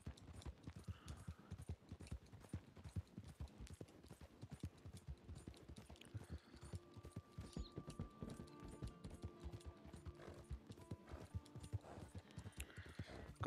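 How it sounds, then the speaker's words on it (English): Horse hooves clip-clop steadily in Red Dead Redemption 2 as the mount trails the player, a dense run of hoofbeats with an occasional faint whinny and soft tonal game music underneath. "My horse should just follow me."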